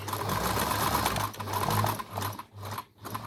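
An overlock sewing machine stitching fabric indoors, a steady close whir with a rapid mechanical chatter that runs continuously and pauses briefly near the end.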